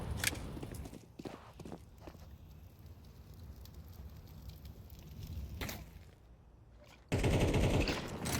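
Pistol shots ring out in a Counter-Strike esports match, a few sharp cracks spaced out early on against quiet game ambience with footsteps, followed by a louder burst of action near the end.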